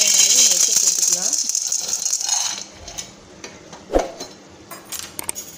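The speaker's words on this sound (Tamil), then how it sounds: "இதில் நமக்கு தேவையான மொச்சை போட்டுக்கலாம்." Dry mochai field beans rattle and scrape in a hot dry pan set over a medium flame, a dense sizzling clatter that fades into sparse stirring knocks, with someone speaking over it.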